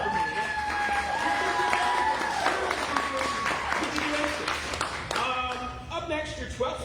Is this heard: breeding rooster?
no